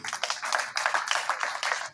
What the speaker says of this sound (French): Ok, on l'applaudit